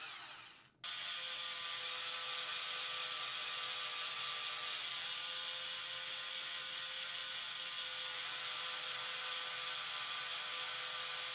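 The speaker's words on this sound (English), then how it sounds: "There's also another motor over here that drives 4 linear actuators." LEGO motor driving four linear actuators that tilt tank launchers, a continuous close ratcheting gear whir that starts abruptly after a brief pause and runs steadily throughout.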